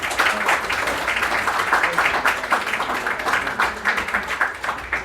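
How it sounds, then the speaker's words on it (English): An audience applauds a guest speaker named Matt, an expert on Jonathan Hager, at an evening culture and cocktails event; steady, dense clapping holds at an even level for several seconds without letting up. "Please give Matt a round of applause as he joins us tonight."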